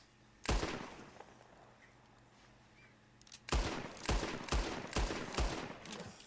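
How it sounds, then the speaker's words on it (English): Gunfire from the video game Red Dead Redemption 2: a single loud shot, a pause, then a rapid series of about six sharp, close shots in quick succession, with no talking. "We're going to shoot some guns."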